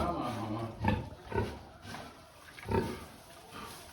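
A pregnant sow in a bedded farrowing pen gives low, throaty grunts in a few separate bursts, close by and fairly soft, with a steady background hum.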